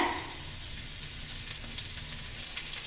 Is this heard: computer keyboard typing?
no